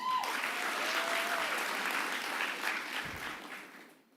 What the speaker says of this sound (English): please give that board of directors who worked so hard for you another round of applause